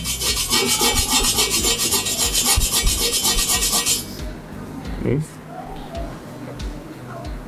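A plastic-bristle mini wire brush from a MOLLAR D85000 set scrubs inside a drilled hole in iron, giving a dense, steady rasping rub for about four seconds, then it stops and softer handling noises follow.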